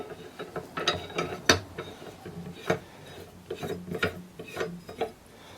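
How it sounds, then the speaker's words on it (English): A rifle receiver threaded by hand onto a barrel before lapping the bolt, close-up metallic ratcheting and scraping clicks in irregular bursts, with several sharper metal clacks and no talking. "you're just going to thread your receiver on here"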